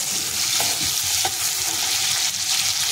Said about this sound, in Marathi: त्या कढईमध्ये तेल घातलेलं आहे आणि हा कांदा छान असा फ्राय करून घ्यायचे